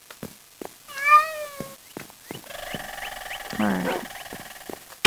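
A Minecraft cat gives a clear, rising-and-falling meow, followed by softer tonal game sounds and a lower, rougher cat call, all close and distinct.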